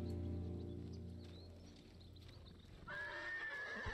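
A white horse in the samurai video game Ghost of Tsushima lets out a loud, close whinny, which then fades into quieter game ambience before a second high, wavering neigh near the end.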